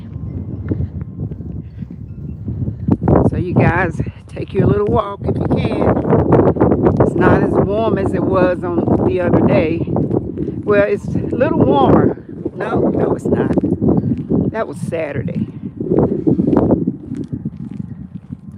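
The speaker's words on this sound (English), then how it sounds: "But you hear the wind, and I apologize for the wind once in a while." Gusting wind buffets the microphone on a short neighborhood walk, a rough low rumble that runs under near, steady conversation between people talking throughout.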